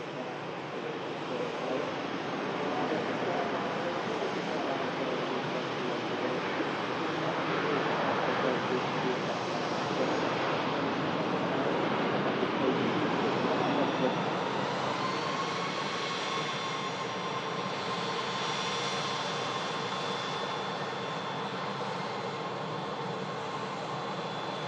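A Ryanair jet airliner rolling out after touchdown, its broad engine roar swelling then easing into a whining tone as it slows, heard from a distance, with a person talking over it.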